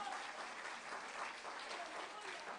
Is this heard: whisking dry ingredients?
no